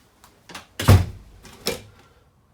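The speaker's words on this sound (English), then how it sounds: "The door just kind of swings and it hits the wall" An RV bathroom door in a 2020 Forest River Rockwood Signature 8288BS fifth wheel swings and knocks against the wall, giving one firm thump followed by a lighter knock, close and fairly quiet.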